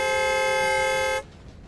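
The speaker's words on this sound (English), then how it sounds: "It even honked the horn, attracting more attention." A car horn sounded by a bear sitting inside a parked car gives one loud, steady blare lasting a little over a second and then cuts off sharply, leaving faint background noise.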